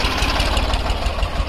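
A Ford 3600 tractor engine runs at a rough idle, a loud, close, steady diesel rumble with a slight knocking pulse throughout and no voices.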